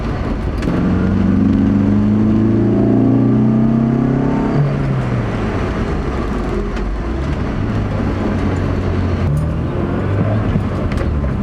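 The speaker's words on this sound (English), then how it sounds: "So, the sound of this intake, guys, I gotta tell you guys, it's amazing." Honda S2000 fitted with an Injen cold air intake, its engine droning loudly and steadily with rising and falling revs as the car drives, close and continuous throughout.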